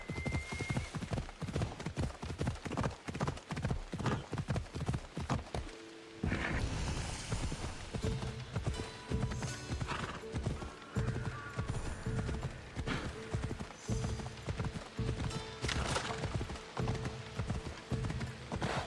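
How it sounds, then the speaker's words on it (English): A horse's hooves clip-clop steadily in Assassin's Creed Odyssey, a fast, even trot loud and close, with a short pause midway before the rhythmic hoofbeats resume at a slightly slower pace alongside faint game sounds. "I hate how the horse just randomly slows down."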